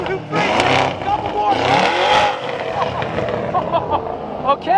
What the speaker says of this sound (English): a couple baby revs because I'm moving out of the neighborhood momentarily